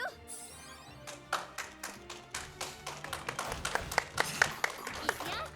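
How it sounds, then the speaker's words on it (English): An audience at a speedrun marathon claps together in a steady rhythm as a boss dies in Octopath Traveler. The sharp claps build in pace and loudness over faint game sound and some background voices. "And now we just clap for every boss dying."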